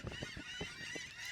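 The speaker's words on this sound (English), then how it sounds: "These birds are called laughing gulls." Laughing gulls calling in a coastal setting, a run of short, repeated honking cries spaced irregularly over a steady bright background hiss, fairly close and moderately loud.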